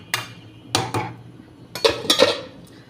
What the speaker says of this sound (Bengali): একটু সেদ্ধ হোক, আমি আবার একটু ঢাকা দেব।